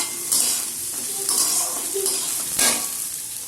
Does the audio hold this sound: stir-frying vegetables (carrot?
yes